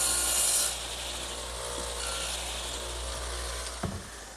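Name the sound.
radial arm saw with twin blade dado head cutting wood tenon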